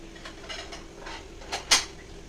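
Fish curry is served into a bowl, with soft ladle scrapes and light clinks on the dish, ending in one sharper clink near the end, fairly quiet and close.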